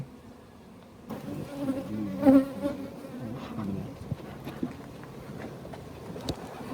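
Honey bees swarm around a hive as it is being moved, giving off a dense, continuous buzzing hum that rises and falls, loudest for a moment near the middle, with no talking.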